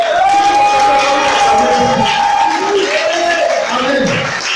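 A church congregation cheers and acclaims the Lord in loud, sustained collective shouting and whooping, with voices rising and falling throughout at close range.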